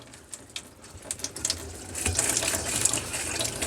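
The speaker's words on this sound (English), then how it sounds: "if you can hear the pump going, it's a pressure pump" A small electric pressure pump runs in an Elddis Autoquest 145 motorhome, pushing fresh water into the hot water tank, a steady hiss and trickle of flowing water that grows louder and fuller partway through, with faint clicks early on.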